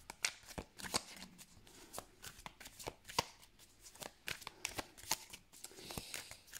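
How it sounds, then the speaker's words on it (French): A tarot deck being cut and shuffled by hand: a run of crisp, rapid card riffles and soft slaps close by, coming in quick irregular bursts with brief pauses, with no talking. "On va commencer par une coupe avec ce tarot."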